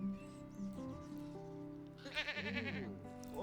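A goat on a horse ranch gives a wavering, nasal bleat in the second half, following a stretch of steady tonal background sound; no one speaks.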